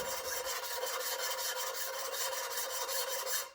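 Valves of a rebuilt 350 engine's cylinder heads being lapped with grinding compound and a suction cup tool, giving a steady, rhythmic back-and-forth gritty rubbing that keeps up close and even throughout, with no talking.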